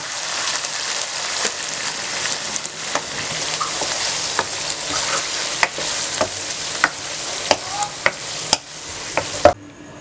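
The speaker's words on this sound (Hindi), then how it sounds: "तो अब ये मुकम्मल तौर पे भून गया है, सालन तैयार हो गया है।" A chicken and chranda vegetable curry sizzles steadily in a pan, a close, even hiss dotted with sharp pops and crackles that grow more frequent before it cuts off abruptly.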